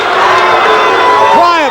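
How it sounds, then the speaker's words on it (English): Boxing arena crowd roaring steadily in support of Alexis Arguello during his bout with Aaron Pryor, a loud dense wash of voices with a rising shout near the end. "The crowd continues to exhort Alexis Arguello"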